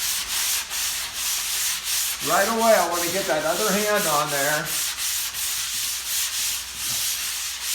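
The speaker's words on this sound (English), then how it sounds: "So I start sanding." Steady rhythmic scraping of hand sanding across a drywall repair, a soft repeated rasp running throughout, with someone speaking briefly in the middle over the strokes.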